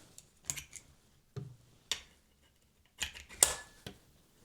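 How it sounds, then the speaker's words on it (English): An Ulanzi quick release camera mount snapping on and off, a handful of sharp, crisp plastic clicks spaced irregularly over a quiet background, close and fairly faint. "I just love that satisfying click."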